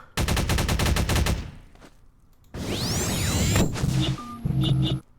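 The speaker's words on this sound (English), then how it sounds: "And then there's the pulse rifle." Pulse rifle fire in a Unity recreation of Half-Life 2: a loud rapid burst of shots, a pause, then a swooping energy discharge with a sustained roar and a few trailing electronic tones.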